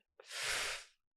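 A single sharp sneeze, close and fairly quiet, with a quick intake of breath just before a brief breathy burst that fades out on its own.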